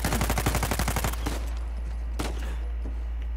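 Gunfire in the video game Uncharted 4: a rapid burst of automatic shots up close for about a second, followed by a couple of sparse, fainter single shots over a steady low hum, with no speech.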